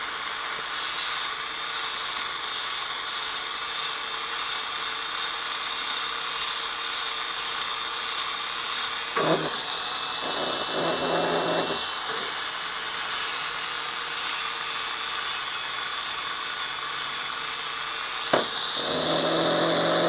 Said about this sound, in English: Who doesn't love some good power tool usage to kick off a stream?